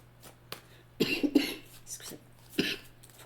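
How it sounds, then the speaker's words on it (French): A hollow, chesty cough from someone who is unwell, several harsh bursts close by with short quiet gaps between them in a quiet room. "C'est pas beau, ça tousse creux."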